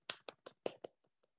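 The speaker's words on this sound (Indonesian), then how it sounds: "tepuk tangan semua dulu untuk Reni." Clapping for a performer at a church drama reading, a handful of sparse, distinct claps in an irregular rhythm, fairly close and quiet, tapering off into near silence.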